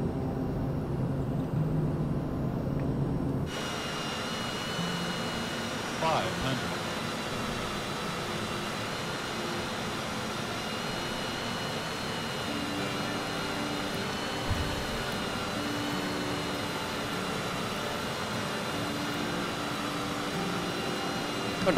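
Airplane cabin noise on the landing approach into St. Thomas, USVI: a steady, loud engine and air roar fills the cabin. It shifts abruptly in tone a few seconds in, then holds as a constant drone.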